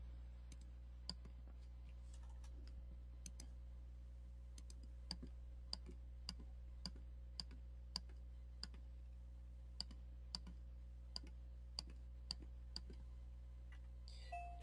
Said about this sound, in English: right click twice